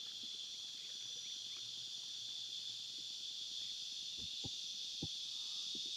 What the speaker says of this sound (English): the cicadas are going wild